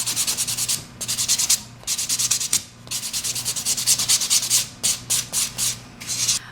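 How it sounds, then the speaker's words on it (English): Close, steady rubbing of a 180-grit file buffing an acrylic nail, in repeated strokes with short pauses between bursts and a faster run of brief strokes near the end; no talking. "I'm going to go to your 180 side, gently buff."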